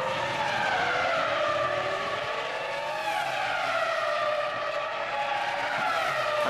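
Formula 1 cars from the 2004 Bahrain Grand Prix scream down a long straight, with loud high engine notes rising and overlapping steadily as several cars pass over a constant crowd and track roar.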